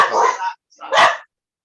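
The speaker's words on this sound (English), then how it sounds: "Crazy dogs." Dogs bark twice at close range, two loud separate barks with a short gap between them and silence after.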